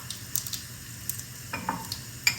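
Cumin seeds dropped into hot oil for aloo puri, a faint steady sizzle with a few sharp crackles and spits scattered over the clip.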